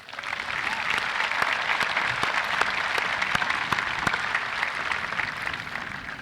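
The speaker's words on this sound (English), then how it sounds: "give Solomon, Dylan, Maya, Colin, and Kiana one more round of applause." Sustained applause from a large audience at a class of 2023 high school commencement, an even wash of many hands clapping with a few sharper individual claps standing out throughout.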